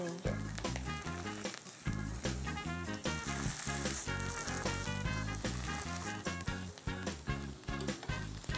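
Meat pressed flat on a hot iron griddle, sizzling steadily throughout, with music and voices over it.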